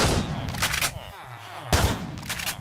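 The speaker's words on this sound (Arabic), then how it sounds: "هذا ايه الشتغن" Loud shotgun blasts go off in a video game, two bursts of booming gunfire about a second apart with a quieter lull between them.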